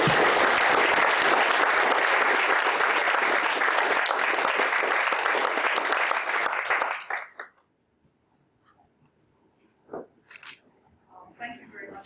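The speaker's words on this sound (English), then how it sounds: "With a big round of applause." Lecture-hall audience gives a big round of applause to welcome a professor, a dense, loud wash of clapping that runs about seven seconds and then stops abruptly, followed by quiet with a few faint bumps and murmurs.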